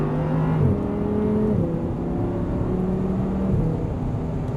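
An Audi R8 accelerates on a race track, its engine a loud, steady drone with pitch rising and shifting through gears over several seconds, heard close from inside the car.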